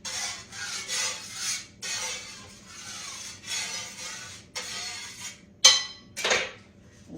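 A potato is peeled by hand in a kitchen, with a series of short, rasping scraping strokes in an uneven rhythm, close and fairly loud, broken by brief pauses.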